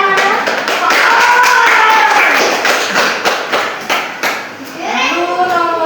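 Schoolchildren in an elementary classroom clap together in a short burst of rhythmic, close claps, mixed with a voice and the teacher's speech before and after.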